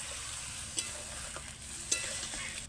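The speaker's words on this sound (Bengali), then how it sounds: "আলুগুলো দিয়ে ভালো করে কষে নেব" Potatoes are stirred and fried in a spice paste in a pan, a soft continuous sizzle with a few faint scraping stirs, fairly quiet and unaccompanied by talk.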